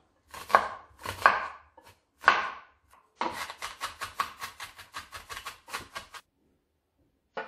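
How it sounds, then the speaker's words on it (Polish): Knife finely chopping onion on a board for a beetroot and apple salad, a few separate cuts then a long run of quick, even, close-up chops, with no talk. "Kroję ją, a następnie drobno szatkuję."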